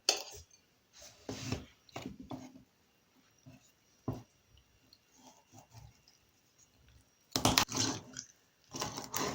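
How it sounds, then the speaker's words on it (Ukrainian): A knife chops raw chicken backs into pieces on a board, irregular clusters of crunchy, cracking thuds separated by quiet gaps, close by and without talk. "Саме перше, що нам потрібно зробити, це нарізати наші курячі спинки на кусочки"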